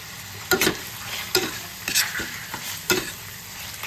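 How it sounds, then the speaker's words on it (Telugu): Chicken biryani masala with ginger-garlic paste and tomatoes fries in a pan, a steady sizzle broken by repeated scraping stir strokes at regular intervals. "చికెన్ అల్లం వెల్లుల్లి పేస్ట్ కూడా వేసేసారనమాట ఆల్రెడీ టమాటాలు వేస్తున్నారు"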